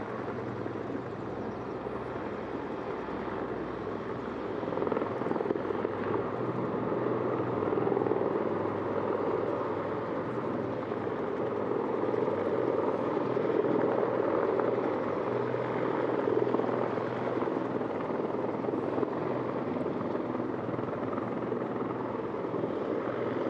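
A Marine helicopter comes in to land at a landing zone, its rotor and engine a steady, loud, continuous drone that swells slightly midway, with no voices.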